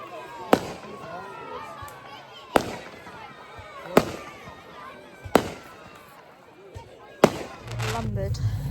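Fireworks go off in a series of sharp, loud bangs at irregular intervals, about six blasts with crackling tails, while people chatter and move nearby throughout.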